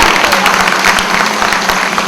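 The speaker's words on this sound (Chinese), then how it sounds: "有的话，我们来点掌声好不好？" Applause at a company's 20th anniversary celebration, dense steady clapping from an audience filling the whole stretch without a break.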